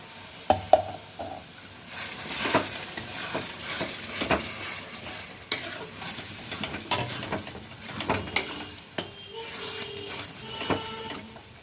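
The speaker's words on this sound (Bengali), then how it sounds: "এটাকে আমি বেশ অনেকক্ষণ ধরে কষাবো আর এর মধ্যে অল্প একটু জল অ্যাড করে দেব।" Spiced ginger paste with turmeric and salt stir-fried in a pan for chicken kosha, with intermittent scraping and stirring clacks over a low steady sizzle, fairly close and moderately quiet, no talking.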